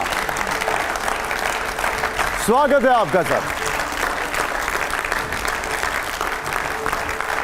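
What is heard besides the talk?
loud audience applause welcoming a guest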